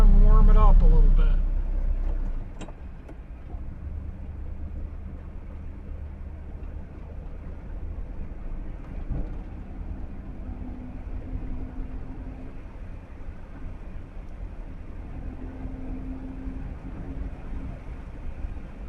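A 1959 Chevy with a 348 V8 idles and runs steadily after a cold start, a low continuous engine rumble that settles after an initial louder surge, with a voice talking over it.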